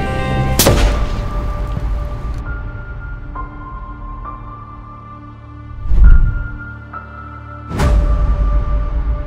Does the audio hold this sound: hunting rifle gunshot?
yes